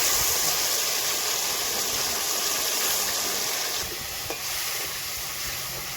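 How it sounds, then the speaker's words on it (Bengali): Fish fat frying in mustard oil in a pan while cooking katla fish, giving a steady, close hiss and sizzle that holds through the whole stretch, with a slight dip near the end. "এখন আমি মাছের তেলগুলা ভাজা করে নেব।"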